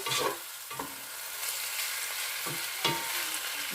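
Chicken fries in a pan with a loud, constant hiss up close, broken by periodic scraping stirs of a utensil against the pan, with no voices.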